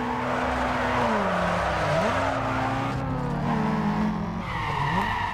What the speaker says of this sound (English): that one car sounded like a frickin' Subaru